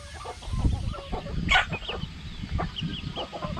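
Free-range village chickens in a pen, clucking in short scattered calls with a louder squawk near the middle, over a steady outdoor background.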